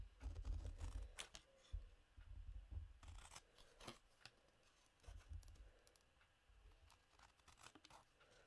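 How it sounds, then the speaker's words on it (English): Scissors snipping through stamped card stock in a papercraft setting, several crisp close cuts in short bursts with rustling paper handling between them, no talking. "And a pair of scissors."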